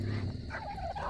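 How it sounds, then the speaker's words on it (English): A creature in Ark Survival Evolved gives a short warbling, gobbling call lasting about a second, close and clear over a low steady background hum. "Who's making the chirping?"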